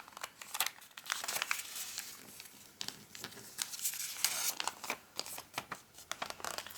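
Crisp origami paper being creased and step-folded into a snowman, close crinkling and rustling in quick irregular bursts, soft and alone without talk.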